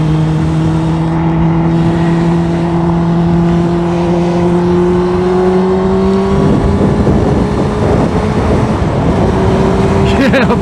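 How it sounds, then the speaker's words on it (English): A 2003 Suzuki GSXR600 motorcycle with a 599cc inline four-cylinder engine pulls hard, its steady tone climbing smoothly, then roughens as the revs rise further, loud and close throughout. "this inline four-cylinder 599 cc's is just so smooth, man"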